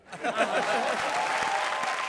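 Studio audience applause on a comedy show rises quickly and stays steady for a couple of seconds, with a hint of voices and chuckling mixed in.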